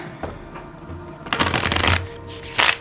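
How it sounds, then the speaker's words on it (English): Tarot cards are shuffled nearby in two quick riffling bursts, with a soft flutter and snap between quieter handling sounds. "I'm sorry for the noise, but I like to shuffle on screen."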